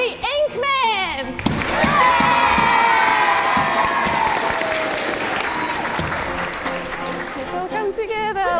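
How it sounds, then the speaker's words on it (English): Children and adults in a school concert audience burst into loud applause and cheering, a dense wash of clapping and high shouts that swells after a brief voice, holds for several seconds, then tapers as speech returns. "A big cheer for the Inkmen!"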